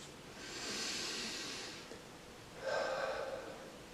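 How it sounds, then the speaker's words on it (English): Calm therapeutic breathing: one slow, soft inhale through the nose, a short pause, then a breathier exhale through the mouth, heard close up in a quiet room without speech. "Inhale through the nose, exhale through the mouth."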